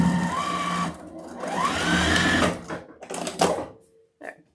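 A sewing machine runs in bursts while stitching a folded fabric tab for a sewn leprechaun top hat wreath attachment, the motor whirring in short runs with pauses and handling noises between.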